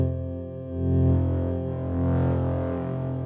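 A synthesizer holds sustained, buzzy chords through the Pulsar Primavera plugin's preamp drive with no reverb added. The tone is gritty and slightly distorted, swelling and easing in level, alone and dry.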